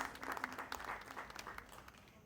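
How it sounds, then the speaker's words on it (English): Brief applause from an audience for competing teams at a law event valedictory, a soft, fairly distant patter of many hands clapping for a couple of seconds. "So a big clap to all the team members for the participation and their performance."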